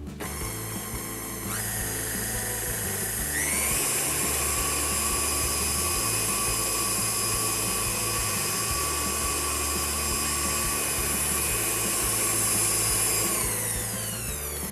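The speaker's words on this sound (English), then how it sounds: "I'm going to be mixing this on speed 4 for about a minute." KitchenAid stand mixer on speed 4 beating butter and sugar for cookies, a loud steady motor whine that rises in pitch as it speeds up, then holds a constant hum with faint rattling.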